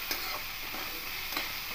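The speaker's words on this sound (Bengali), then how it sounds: "এবার খুব ভালো করে মিশিয়ে নিয়েছি।" Bottle gourd fries in a little oil in a pan as it is stirred, a soft continuous sizzle with a few light scraping strokes of the spoon, quiet and close, with no voices.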